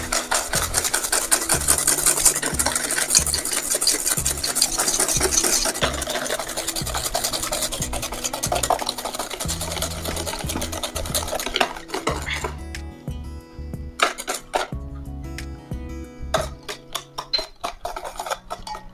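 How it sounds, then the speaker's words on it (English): Sugar being stirred into pale yellow cake batter for a steamed chocolate cake, with a steady run of close scraping and clinking of utensil against bowl, busier at first and then turning into sparser, separate knocks. "I can add now the sugar and continue to stir it"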